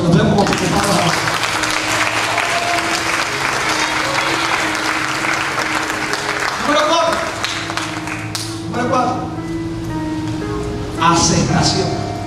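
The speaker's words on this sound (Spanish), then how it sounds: "Dale un aplauso" Audience applause at a church service, a dense wash of clapping filling the space from start to finish, loud and steady, with a brief swell near the end and faint voices mixed underneath.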